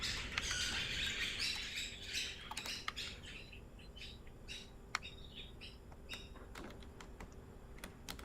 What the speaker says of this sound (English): Those are actually wild birds just outside my window.